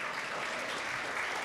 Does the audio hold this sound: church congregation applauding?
yes